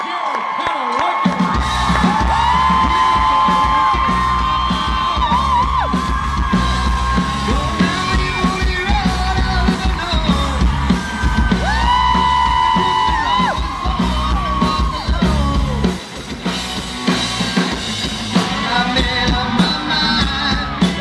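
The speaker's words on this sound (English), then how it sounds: "Big round of applause for Mr. Jensen and Jared Padalecki" A crowd at a Supernatural fan convention panel in Dallas with Jensen Ackles and Jared Padalecki cheers, yells and whoops loudly and continuously over sustained music.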